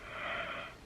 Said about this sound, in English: I keep yawning because it's actually 5:30 in the morning.